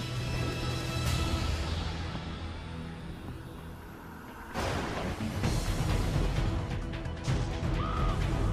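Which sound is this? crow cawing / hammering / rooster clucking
crow cawing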